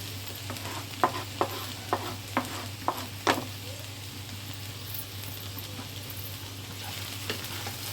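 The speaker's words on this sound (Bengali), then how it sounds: "এখন ভাজিটা নাড়াচাড়া দিয়ে নামাই ফেলবো।" Fried okra and potato being stirred in a pan during home cooking, with a series of distinct scraping clicks in the first few seconds over a faint steady sizzle and low background hum, then quieter frying.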